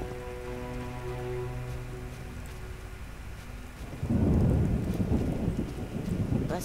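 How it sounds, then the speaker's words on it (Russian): Rain in the video game The Witcher: a steady hiss of rainfall under soft ambient music, swelling into a louder, denser patter and rumble partway through, with no talking. "А это так моросит."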